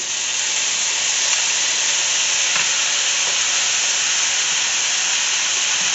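Garlic sizzles steadily in hot oil in a pot for red beans and rice, a loud continuous frying hiss with a few faint stirring scrapes and no voices.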